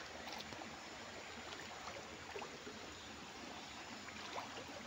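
Soft, steady rush of a river flowing over sand, faint and continuous with small trickling splashes, no voices.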